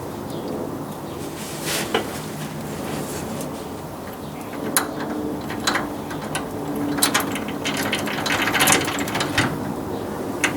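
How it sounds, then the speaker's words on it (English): Metal bolts rattling and dropping into a shock absorber on a 1989 Chevy S10 long bed as it is jiggled, a steady mechanical clatter with sharp clicks and ticks, no speech. "I'm doing that on purpose so that the bolts can drop down into the shock without me reaching up and pushing them through with my other hand"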